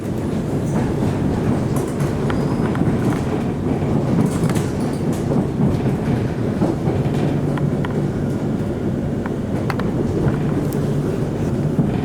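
An HCMT suburban train arriving and terminating at Dandenong station, a loud, continuous low rumble of rolling wheels with faint clicking of the rails, heard from on board, with some wind buffeting the microphone.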